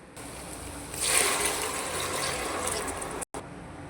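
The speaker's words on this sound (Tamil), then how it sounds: "அதுக்கு 4 கப் தண்ணி சேர்க்க போகிறோம்." Water is poured steadily into a cooking pot of soaked rice and eggs for egg biryani, a continuous close splashing rush that swells after a second and runs on, with a brief dropout near the end.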